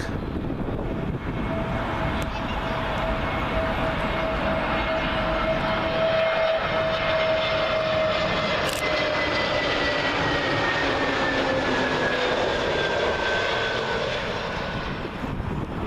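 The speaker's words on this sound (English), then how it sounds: "Up next for arrival, Aer Lingus A320neo, and this one's arriving in from Cork" An Aer Lingus Airbus A320neo jet arriving from Cork passes low over Myrtle Avenue while landing on Heathrow's runway 27L, giving a loud, sustained engine roar with whining tones that slowly drop in pitch across the whole pass.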